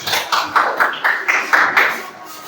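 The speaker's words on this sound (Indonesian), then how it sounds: "Berikan tepuk tangan untuk kelompok B." A group of children clapping in applause for a classmate group, with several distinct bursts of claps in an uneven rhythm, moderately loud and close, fading toward the end.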